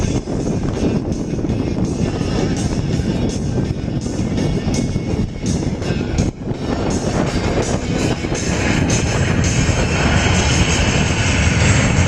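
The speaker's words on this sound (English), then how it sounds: "the crew will demonstrate a very short landing with the C-17" A C-17 military transport aircraft roars in to land in a very short landing, its jet engines a loud, steady, broadband rumble and whine that holds for the whole stretch, with no voices.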